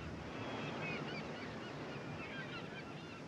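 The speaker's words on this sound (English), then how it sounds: "That and them damn waves flopping in all day long." Ocean waves wash against a shore in a steady, unbroken rush of surf, moderately distant and fairly quiet, with faint bird-like calls drifting through the noise.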